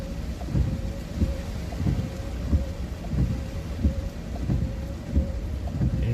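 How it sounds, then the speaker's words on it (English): Heavy thunderstorm downpour near Cumberland, Maryland, with dense rain drumming steadily and repeated low thunder rumbles rolling through, loud and close, no voices. "Here's our big storm."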